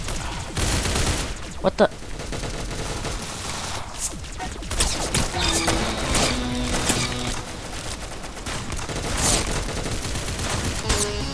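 Rapid bursts of video game gunfire crackle throughout, dense and loud, mixed with game effects and a player's brief exclamation over the shooting.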